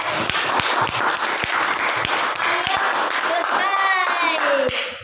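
A classroom of students claps for the class at the end of an Arabic-language lesson: scattered, fairly close applause with distinct individual claps, while voices talk and call out over it.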